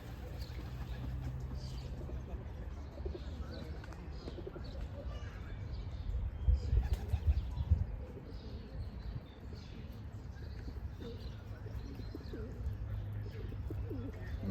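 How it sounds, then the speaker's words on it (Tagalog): Pigeons and ducks in a park with large birds, giving faint soft cooing and scattered calls over a steady low background rumble, with a brief louder stretch in the middle. "yung mga malaking ibon at saka kalapati at saka itik"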